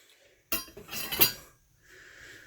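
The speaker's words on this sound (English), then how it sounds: "So, let's get this whisked up." Whisking a ricotta and cheese mixture for a crockpot rigatoni bake: a brief burst of quick clinking and scraping against a bowl, close by, followed by a softer rustle, with no talking.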